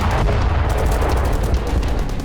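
Loud, close war footage of gunfire and mortar fire as Russian troops ambush Ukrainian forces, with sharp overlapping shots and booms in quick irregular succession.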